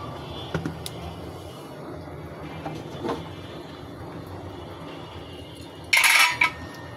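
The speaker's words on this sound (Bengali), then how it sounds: "চুলা থেকে হাঁড়িটা তুলে নিলাম।" A cooking pot lifted off a kitchen stove: a low, faint background hum with a few small knocks, then one bright metallic clank near the end.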